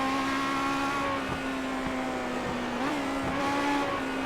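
A race car's engine drones steadily at high revs through a 40-lap feature race, its pitch dipping and rising as the driver lifts off and gets back on the gas, loud and continuous with no talking.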